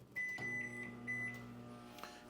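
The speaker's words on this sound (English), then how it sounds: "We're going to set Steph's in the microwave real quick so we can get to eating" A microwave oven heats food with a low steady electrical hum and faint high whine, quiet and continuous, with a couple of soft clicks and no talking.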